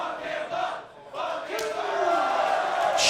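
Crowd noise at a Skankfest wrestling show, with fans shouting and cheering steadily and swelling louder toward the end, while a commentator talks over the top of it.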